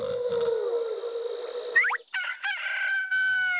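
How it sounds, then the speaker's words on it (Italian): A rooster crows in one long, loud, drawn-out call, followed by a few shorter clucking and squawking notes, with no talking. "Ogni mattino il gallo canta."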